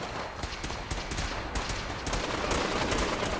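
A gun battle in Fallout 4 at Bunker Hill against the Brotherhood of Steel: dense, steady crackling fire with sharp rapid pops throughout, a busy and continuous distant-sounding firefight.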